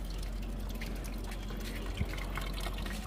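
Water poured onto potted plants on a rooftop, a steady trickling splash running continuously at moderate level, with one brief knock near the middle and faint background noise.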